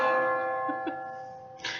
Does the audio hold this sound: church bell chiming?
yes